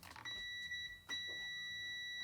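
A multimeter's continuity tester gives a steady high-pitched electronic beep while testing a car's ECU-to-coil wiring, sounding continuously, briefly dropping out once before resuming, with faint clicks underneath.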